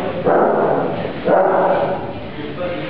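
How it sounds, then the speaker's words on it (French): A dog barks twice in muffled, band-limited bursts about a second apart, moderately loud over a constant dense background noise. "Le chien se mit à aboyer."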